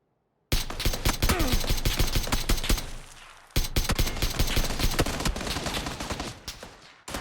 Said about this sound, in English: I miss a ton of shots, but these guys are playing so passively.